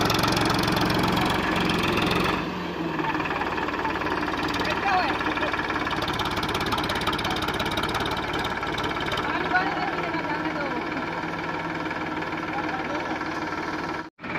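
A tractor engine runs steadily nearby on a potato-planting farm, a continuous low rumbling drone that holds for most of the stretch before cutting off abruptly at the end, while people talk over it.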